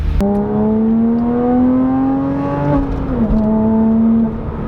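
A Porsche Cayman engine revs steadily and loudly close by, its pitch climbing gradually before easing off near the end, with a smooth harmonic tone and no voices.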